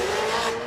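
A drift car with a Toyota 2JZ engine at Toronto Motorsports Park during a drift competition: a loud, close engine roar with tire squeal, sustained for a brief moment.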